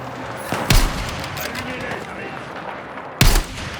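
An RPG fires at a building in the war game Battlefield 6, with two sharp loud blasts about two and a half seconds apart over a background of distant gunfire and battle noise.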